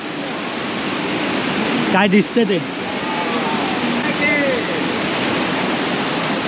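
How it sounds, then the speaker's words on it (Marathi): Steady rushing roar of Kalu Waterfall in Malshej Ghat, Sahyadri hills, fills the scene, with a brief spoken remark cutting through midway. "आपण रिस्की पॅच पूर्ण करत करत शेवटी त्या धबधब्याजवळ पोचलेलो आहे"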